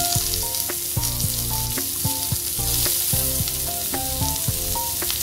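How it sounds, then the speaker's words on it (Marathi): Chopped onion roasts on a hot tawa for Moghlai chicken, giving a loud, constant sizzle and crackle, with rhythmic background music playing throughout. "आता हा कांदा आपण इकडे तव्यावर घालून"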